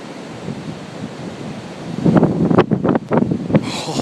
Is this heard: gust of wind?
yes